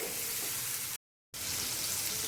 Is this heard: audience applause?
no